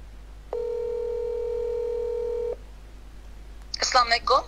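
A single steady telephone ringback tone about two seconds long sounds clearly over a quiet line as an incoming phone call connects, followed by a person starting to speak.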